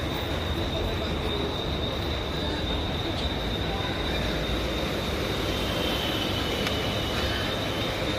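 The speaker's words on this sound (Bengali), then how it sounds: "এটা হচ্ছে মুম্বাইয়ের লোকাল ট্রেন" A Mumbai local train rolls along in a steady, loud rumble of wheels and carriages, with a thin high squeal riding over the constant roar throughout.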